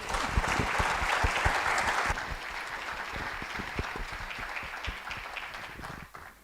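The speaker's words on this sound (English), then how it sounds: "I think round of applause to all three panelists." An audience at a philanthropy forum applauds three panelists, a dense wash of clapping that gradually thins out and fades, with scattered individual claps toward the end.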